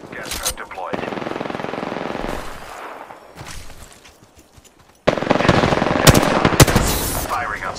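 Automatic weapons fire in rapid bursts in the video game Apex Legends, loud and close, with a quieter lull in the middle before another heavy stretch of shooting and sharp single cracks.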